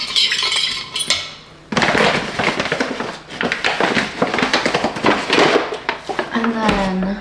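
Sugar being mixed into a bowl of dough ingredients for cinnamon rolls, with utensil scraping and clinking against the bowl in a steady rhythm, close and fairly loud, running under a speaking voice.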